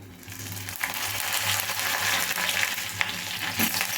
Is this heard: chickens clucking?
no